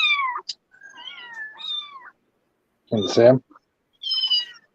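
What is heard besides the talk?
cat meowing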